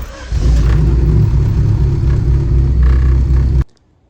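A 2017 Honda Civic turbo engine with 65k miles idles roughly, a loud, close, low rumble that holds for about three seconds with slight unevenness, then cuts off abruptly.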